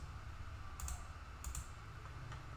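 A few light, sharp computer mouse clicks, about three spaced over a couple of seconds, sound above a faint steady background hum while an Excel chart is formatted.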